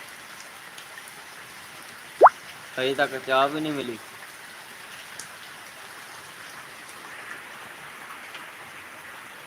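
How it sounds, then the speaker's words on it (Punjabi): Steady rain falls throughout as an even, close hiss, with a brief burst of speech early on before the downpour carries on alone. "ਦੇਖੋ ਮੀਂਹ ਕਿੱਦਾਂ ਲੱਗਾ ਸਾਡੇ ਵੱਲ"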